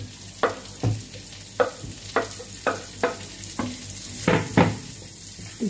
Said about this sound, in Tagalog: Garlic at saka onion at igisa ko muna